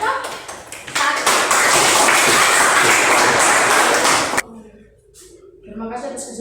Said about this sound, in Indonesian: kita beri dulu tepuk tangan untuk kelompok 1